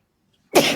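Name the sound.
sneeze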